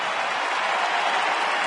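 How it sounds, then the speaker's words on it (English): A large baseball crowd applauds during a Phillies at Atlanta game in October 2010, a dense, steady wash of clapping that holds evenly throughout at a moderate distance. "Now the crowd begins its rhythmic applause."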